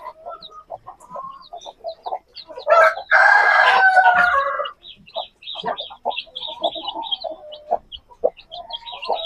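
Hen clucking among her three newly hatched chicks, a steady run of soft, close clucks and peeping with a denser burst of louder calling partway through, no one speaking.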